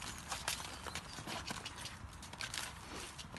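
Horse hooves clip-clop steadily on the ground in a fairly close, busy rhythm as the animal walks a course laid with poles, with no voices over it.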